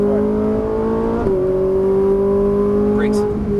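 A Ferrari 458 Italia at speed on a Las Vegas race track, its engine a loud, close, steady high-pitched drone that dips briefly with a gear change and then holds strong under the throttle.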